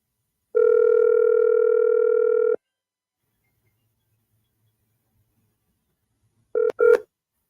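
A telephone dials out to a radio caller on WZYE 95.9 FM, with a long steady dial tone followed after a silent gap by a couple of short, loud keypad tones.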